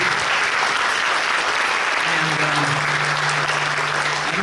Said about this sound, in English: let's give a round of applause again for the color guard.